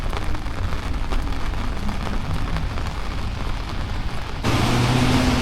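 Heavy tropical rain pours steadily onto a street in Montego Bay, Jamaica, a dense continuous roar that swells louder near the end, with no voices.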